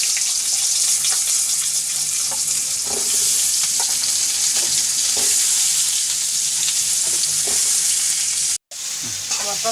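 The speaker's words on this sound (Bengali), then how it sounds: "তেল আর জিরা দিয়ে দিছি।" Oil and cumin for a katla fish curry frying in a pan, a loud continuous hiss and sizzle with occasional soft stirring knocks and a brief dropout near the end.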